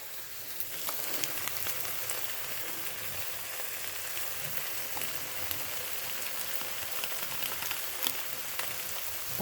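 Boiled peas fry with masala for ghugni, a continuous crackling sizzle like rain on a surface, with occasional sharp pops and stirring clicks throughout.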